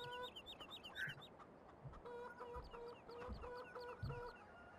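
Chickens cluck repeatedly in the Farming Simulator 2015 video game, a steady run of nearby hen calls with a few brief low thumps beneath, and no voices.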